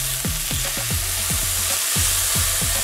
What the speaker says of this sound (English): Flip the tomatoes to the other side and cook for another minute